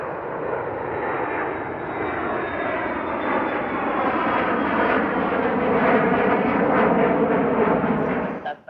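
A fixed-wing airplane landing at Centennial Airport, its engine roar loud and steady for several seconds, swelling slightly as it passes near before cutting off abruptly.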